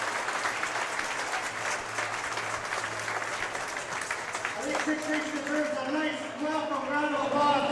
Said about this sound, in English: it's time to give both teams a nice round of applause.